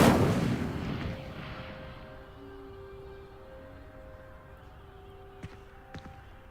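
In the Hogwarts Legacy video game, the Incendio fire spell goes off with a loud whooshing blast that fades over a few seconds into a quiet ringing hum, followed by two faint sharp clicks near the end.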